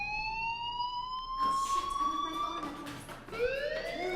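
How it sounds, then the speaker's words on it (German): A school fire alarm in the game Life is Strange wails with a rising, sustained electronic tone, sweeping upward again partway through, moderately loud and steady with no talking over it. "do you hear that fire alarm? That means you should be outside."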